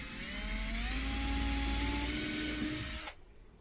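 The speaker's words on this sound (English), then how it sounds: "Same process, drill a little pilot hole." A power drill whirs steadily for about three seconds drilling a pilot hole in MDF, its pitch dipping slightly under load before it stops abruptly.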